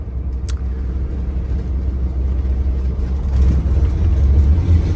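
A car crosses the bridge from Pensacola Beach toward Pensacola, giving a steady low road rumble and engine drone from inside the vehicle, swelling slightly louder toward the end, with no talking.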